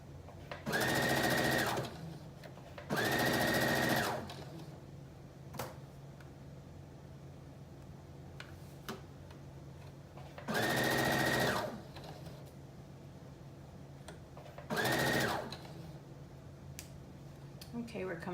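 A sewing machine stitches dress fabric for a wrap dress in four loud whirring bursts, each one to two seconds long, separated by quiet pauses with faint handling sounds.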